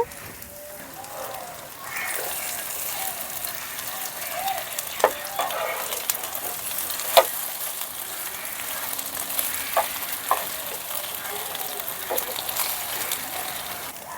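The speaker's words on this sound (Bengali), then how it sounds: "পনিরগুলো এক সাইড ভাজা হয়ে গেছে এখন আমি উল্টিয়ে দিচ্ছি" Paneer cubes coated in cornflour frying in hot oil in a pan for chilli paneer, a steady close sizzle throughout with a few sharp clicks and scrapes as the pieces are turned, no talk.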